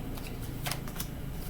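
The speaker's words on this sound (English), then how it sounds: "I'll shuffle 3 times" A deck of tarot cards shuffled by hand, a short soft riffling burst in the middle over steady low room noise.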